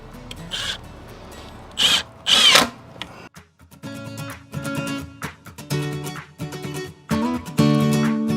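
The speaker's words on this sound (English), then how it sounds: "I'm gonna drive these little structural screws home." A power drill drives structural screws into a wooden cedar fence post in several short whirring bursts, close and clear, separated by brief pauses.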